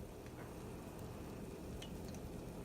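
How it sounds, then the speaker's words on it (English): Eggplant frying in canola oil in a large Pampered Chef skillet gives a steady, quiet sizzle with occasional light crackles and stirring clicks, no voices. "I'm frying up in canola oil the eggplant"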